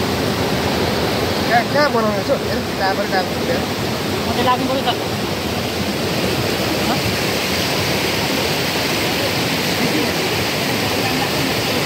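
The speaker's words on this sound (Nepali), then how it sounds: "यति बेला हामी यो खर्दु खोलामा छौँ" Water of the Khardu river stream rushes steadily in a continuous broadband roar close by at a drinking-water survey site, with people talking over the flow.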